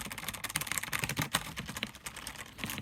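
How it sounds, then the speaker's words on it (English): Rapid, continuous clacking of a mechanical keyboard being typed on, dense and even keystrokes up close with no voices. "Let me know if there's a big sound difference between these keycaps and these keycaps."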